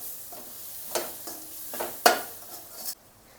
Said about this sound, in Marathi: आता हे मिश्रण व्यवस्थित असं मिक्स करून घेऊया।